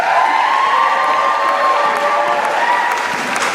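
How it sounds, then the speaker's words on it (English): Audience at a 2013 youth conference applauding and cheering loudly and steadily throughout, a dense wash of clapping with scattered shouts. "Why don't you give him a round of applause?"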